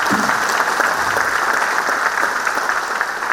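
A political rally crowd gives a sustained round of loud, dense applause, many hands clapping together evenly for the whole stretch, with no speech over it.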